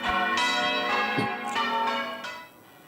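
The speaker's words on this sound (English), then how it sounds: "The call has gone out for bell ringers across the United Kingdom, ready to ring in the new king at his coronation ceremony in May." Church bells ring in the UK as bell ringers practise for a coronation, giving several loud, overlapping resonant strikes that hang and fade away.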